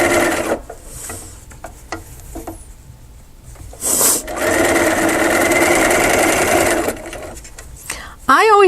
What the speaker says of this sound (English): Again, I'm sewing straight.